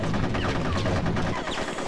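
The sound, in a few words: gunfire from Conker's Bad Fur Day video game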